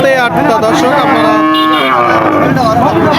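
Several Friesian and crossbred cattle moo loudly and close by at a cattle market, long overlapping lowing calls one after another, with a busy crowd murmuring underneath.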